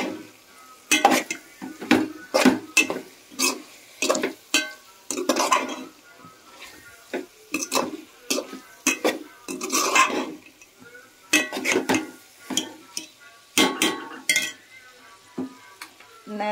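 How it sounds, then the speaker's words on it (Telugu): Chili powder is stirred into a Guntur-style broad bean curry in a pan on low heat, with scraping spoon strokes and clinking against metal over a faint continuous sizzle, alone and close. "సిమ్లో పెట్టి ఇలా మళ్ళీ ముక్కలకంతా పట్టేలాగా కారం ఇట్లా తిప్పుకోవాలి"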